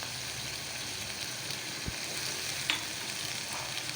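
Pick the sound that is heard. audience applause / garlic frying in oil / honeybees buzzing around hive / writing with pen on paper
garlic frying in oil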